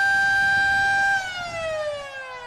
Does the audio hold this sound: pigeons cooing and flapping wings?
no